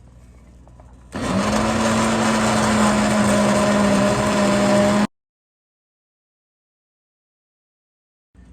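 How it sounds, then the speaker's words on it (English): An immersion blender purees a pot of foraged tomato sauce, its motor whirring loudly and steadily for about four seconds before cutting off abruptly, followed by near silence. "then we will immersion blend it and let it cook down"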